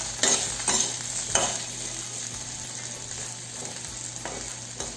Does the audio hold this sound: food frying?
yes